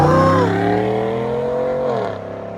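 A 2020 GMC Sierra AT4 pickup with a 6.2L V8 and Borla Atak exhaust drives off with a loud, deep, droning exhaust note that holds steady, then drops in pitch and fades slightly as it pulls away.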